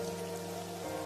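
Heavy rain pours steadily on a road, a dense continuous hiss with a low droning hum underneath throughout.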